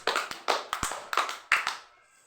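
A class of students gives five rounds of sharp clapping in a rhythmic classroom cheer, with bursts spaced evenly and close, then a brief quiet tail.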